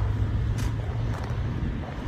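Inside a car, a low, steady engine and road rumble fills the cabin, with a brief hiss of passing air midway, constant and close with no talking.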